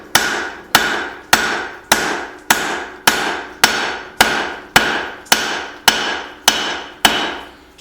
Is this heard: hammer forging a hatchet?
yes